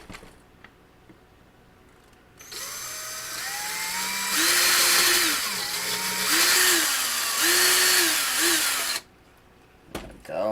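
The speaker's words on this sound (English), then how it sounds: "drill into this." A small power drill bores into a plastic Monogram/Revell Battlestar Galactica Colonial Viper Mk1 model kit, a steady whine with pitch dips as the bit bites, running for several seconds before stopping.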